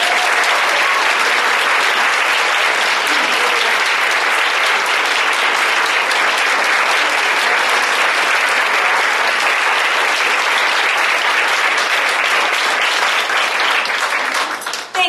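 An audience at a women's political summit bursts into loud, sustained applause welcoming a speaker, a dense wash of clapping that holds steady for about fifteen seconds before tapering off at the very end.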